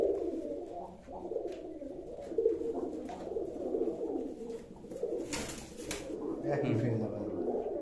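Pigeons offered for sale in Baruipur coo in low, continuous murmurs nearby, with people talking over them.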